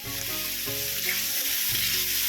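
Spring roll vegetable filling with cucumber, salt and chilli stir-fried in a pan, a continuous loud sizzle with a steady hiss and a low rhythmic hum, close up, no voices.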